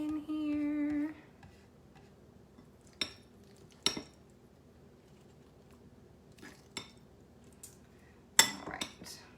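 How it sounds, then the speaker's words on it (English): Soft clinks of a spoon against a dish ring out sporadically, near and quiet, as tuna salad is spooned into big lettuce leaf cups, after a brief tonal sound at the start. "And you're gonna spoon some in here."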